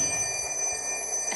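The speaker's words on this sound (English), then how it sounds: "there's a phone call for you" A telephone ringing with a bright, trilling electronic bell tone, steady and moderately loud over a low background murmur.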